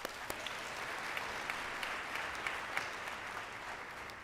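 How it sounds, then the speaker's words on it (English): Graduates at a medical school winter commencement applaud themselves, a soft, distant crowd clapping evenly, with a few sharper individual claps standing out. "Please give yourselves a round of applause."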